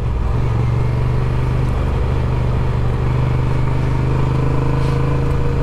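Honda TransAlp and Suzuki V-Strom motorcycles ride along back roads, their engines droning loud and steady close by with a continuous low rumble and strong wind noise.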